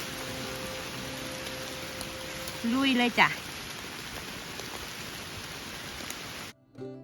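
Heavy rain pours steadily through a forest during mushroom foraging, a constant close hiss with someone speaking briefly partway through.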